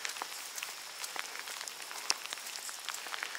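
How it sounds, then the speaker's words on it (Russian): Steady patter of rain with scattered sharper drops striking a nearby surface, continuous and moderately soft, no voices. "в дождь попали"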